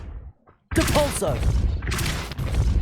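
After a brief near-silence, the Depulso spell in Hogwarts Legacy bursts in loud and dense, a forceful blast with crashing impact noise, while a voice talks over part of it.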